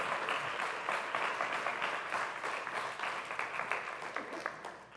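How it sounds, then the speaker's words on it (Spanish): A church congregation claps together at the close of a morning service, a dense, steady wash of applause that holds strong throughout and fades slightly at the end. "Vamos a darle un aplauso al Señor en esta mañana y terminamos."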